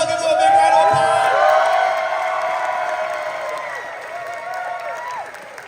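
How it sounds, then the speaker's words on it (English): A Comic-Con panel crowd claps and whoops for the Voltes V Legacy cast, loud at first then tapering, with shouts and a sustained tonal ringing layered over the applause. "Let's all give them a big round of applause"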